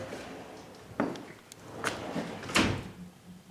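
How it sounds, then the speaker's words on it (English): Soft-close kitchen cabinet drawers and doors shut, three quiet muffled thuds spaced about a second apart, each one eased in rather than slammed, in a quiet room. "one thing we like about cabinets.com is the soft closure features in the drawers and apparently the doors"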